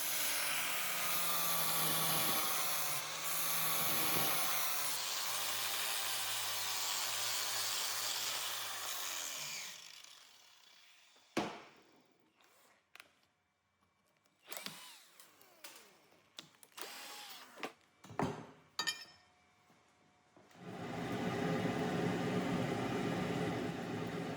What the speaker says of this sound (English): I'm using an angle grinder with a high-grit sanding disc to polish away any remaining deep forge pits or scratches on the flats